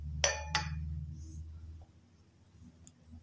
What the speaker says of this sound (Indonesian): kita tutup lilin menggunakan gelas